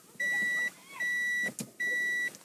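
A 2009 Subaru Forester 2.0XT warning chime beeps in three steady, sustained tonal bursts inside the cabin, each about half a second long, with a short click between the second and third.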